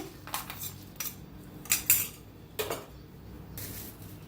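A spoon stirs peanuts into a bowl of sprouted moth bean chaat. It makes a few faint, scattered clinks and scrapes of metal against the bowl, with quiet pauses between them.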